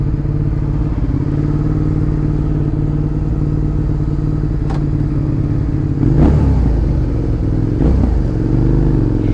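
A motorcycle engine idles with a steady low drone, then a few brief throttle blips rise over it near the end.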